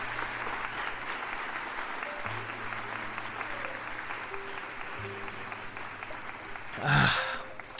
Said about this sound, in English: Can we give a round of applause to Hector for